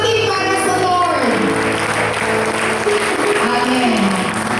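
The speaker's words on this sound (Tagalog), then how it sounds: "Palakpak ulit para sa Lord" A church congregation at a revival night service applauds for the Lord, a dense, steady wash of clapping and crowd noise with voices and sustained music tones mixed in.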